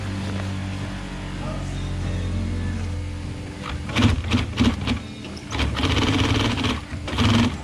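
A sewing machine lock-stitches a seam over semi-flat felt on a Reinell boat cover. After a quiet hum it runs in several short, loud, rapid stitching bursts separated by brief pauses.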